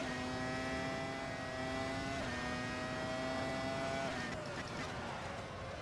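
A 1999 Formula 1 race car engine in the Assetto Corsa racing game holds a steady high-pitched whine, shifting pitch around two and four seconds as gears change, loud and continuous with no talking.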